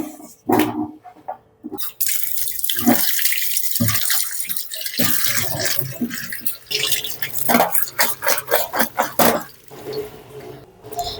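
Freshly cut young turnip or kohlrabi pieces washed under a running kitchen tap, with water splashing and dripping in bursts and pauses, close and fairly loud, plus clatter of handling, no talk.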